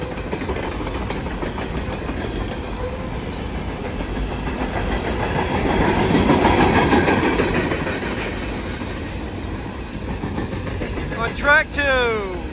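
A Norfolk Southern coal train rolls past, a loud continuous rumble and rail clatter that swells near the middle and then eases, with a horn-like tone near the end.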